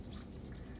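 Excess water drips and patters off a screen printing screen being shaken after washout, a soft, steady wet spatter close by with no voices.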